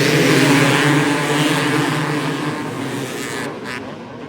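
Two-stroke 300 motocross bikes racing at Glen Helen in an Open Pro moto, a loud, sustained engine roar that sounds close at first, then gradually fades as the bikes pull away.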